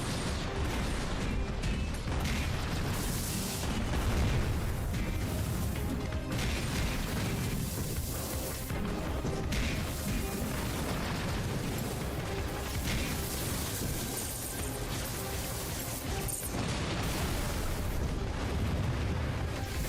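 A mech in a mecha video game fires missiles amid a dense, continuous barrage of booming explosions and rumbling blasts, loud and close with no pauses and no talk.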